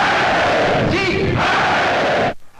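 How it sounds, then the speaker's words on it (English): A large assembly of deputies in a parliamentary hall applauds and cheers its leaders, a dense, loud roar of clapping and voices that swells briefly, then cuts off abruptly. "Applauding on cue the words of the leaders"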